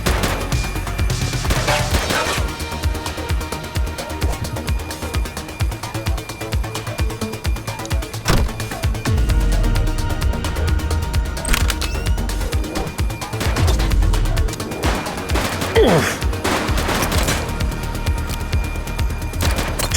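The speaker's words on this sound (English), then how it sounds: "She's shooting!" Gunfire in the police video game The Precinct, loud bursts and single shots over a dense bed of game music and effects, with a few sharper cracks standing out near the start and middle.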